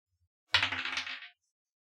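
Dice rolled for a wisdom check during a tabletop role-playing game: one short rattling clatter lasting under a second, close and crisp, with no talk.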